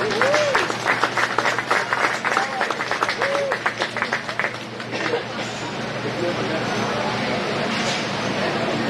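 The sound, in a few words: applause for a young exhibitor at a cattle show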